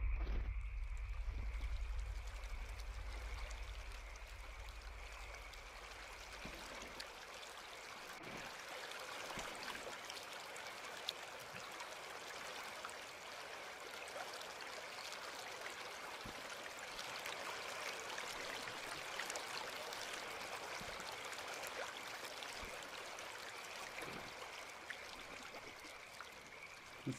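Steady broadband rush of flowing water, like a stream running continuously nearby, with a few faint low thumps scattered through and no talking.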